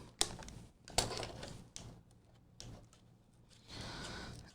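Close, crisp snips of scissors working through a plastic Redcat Monte Carlo RC car body, a few sharp cuts spaced by quiet pauses, ending in a soft rustle.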